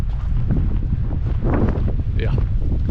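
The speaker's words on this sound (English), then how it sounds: "can you hear the wind?" Wind gusting across the high desert in Tehachapi, California, a steady loud rush and buffeting against the microphone throughout, with a voice faintly audible underneath.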